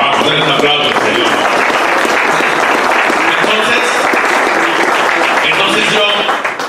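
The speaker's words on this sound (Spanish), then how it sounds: "Vamos a darle un aplauso al Señor." Loud, sustained applause from a church congregation during a Spanish-language pastoral service, a continuous dense clapping that carries on for several seconds before tailing off at the end.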